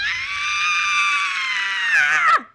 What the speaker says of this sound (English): I did not expect her to scream that long